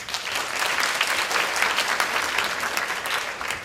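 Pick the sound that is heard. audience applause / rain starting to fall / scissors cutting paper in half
audience applause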